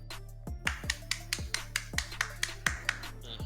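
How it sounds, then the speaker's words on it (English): Sharp hand claps from one person, a dozen or so in an uneven rapid series, close and fairly loud, heard over a faint murmur of background sound during a League of Legends esports match stream. "That was me clapping."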